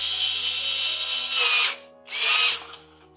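A Parkside PBBS electric screwdriver driving in a screw with its clutch on the lowest setting, a steady high motor whine for about a second and a half, a short pause, then a second brief burst, close and loud.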